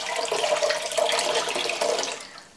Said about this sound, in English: So that shawl has now been soaking for 20 minutes and it's time to get it out of the water.